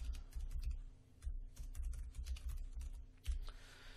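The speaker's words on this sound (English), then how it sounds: "So I can type anything I want in there about the project" Typing notes on a computer keyboard, a close, steady run of light key clicks with short pauses, fairly quiet and without talk.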